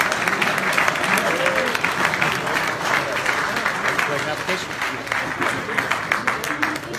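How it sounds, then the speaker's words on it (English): A large audience claps continuously and enthusiastically, the applause dense and sustained, with a voice faintly audible beneath it. "Keep clapping, keep clapping, keep clapping,"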